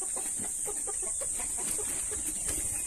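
Pure Shamo chickens on a farm clucking in a run of short, repeated calls at close range over a steady high-pitched insect or ambient hiss.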